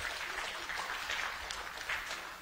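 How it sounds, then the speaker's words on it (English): Audience applause for a volunteer at a live show, a steady dense wash of clapping throughout with a few brighter bursts, no talk over it. "Give him a round of applause."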